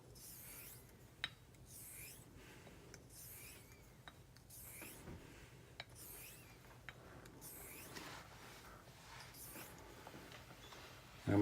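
A knife blade is stroked across a Japanese natural whetstone in quiet, evenly spaced scraping passes, a soft rhythmic rasp about once a second with occasional light clicks.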